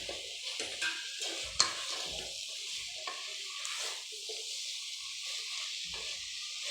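Large-cut mushrooms fry in oil in a pan for biryani, a steady soft sizzle broken by scraping stirs and occasional clinks of the spoon against the pan.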